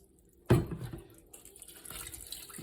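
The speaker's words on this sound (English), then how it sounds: "then you strain it in this strainer that he has here" Coconut milk from grated coconut and water poured through a kitchen strainer, starting with a sudden splash after brief quiet and then a lighter running trickle of liquid that continues to the end.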